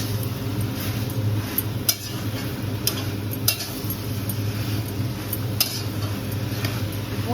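Chicken meat is stirred in a pan with other ingredients for a chilli chicken dish, giving a steady low sizzle with repeated spoon scrapes and clinks against the pan. There is no talking.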